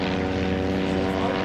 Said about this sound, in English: getting airborne now is the Newport 11 in front of us, with the distinctive blip of the rotary engine